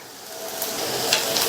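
Steady sizzling of onions and tamarind sautéing in a hot pan for mint chutney, a continuous crackle with faint stirring scrapes, close and moderately loud.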